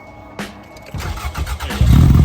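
A Toyota MR2 engine cranking and catching as the clutch is released, a sharp mechanical start followed by a rough idle that rises into a loud, steady rumble.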